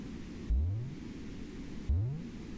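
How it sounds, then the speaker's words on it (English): Steady staticky white noise hissing in the background of the 20 Small Mazes video game, faint and constant, with two low rising whooshes cutting in. "There's definitely like a white noise in the background. It's just like a staticky background noise."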